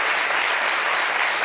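Audience applause fills a French-language TV entertainment show studio, a dense, steady wash of many hands clapping at even loudness from start to finish with no talking.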